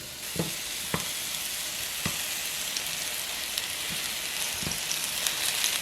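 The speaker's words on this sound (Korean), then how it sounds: "팬에 오일을 두르고 양파는 자른 면으로 모두 넣어주세요" Halved onions laid cut side down sizzle in hot oil in a pan, a steady hiss with a few soft pops and clicks scattered through, no voices.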